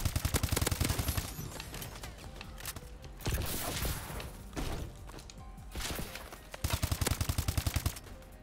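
Gunfire from the most overpowered gun in Call of Duty: Advanced Warfare, with rapid automatic bursts at the start and end and heavier thumping shots in between, loud and close in a busy game mix.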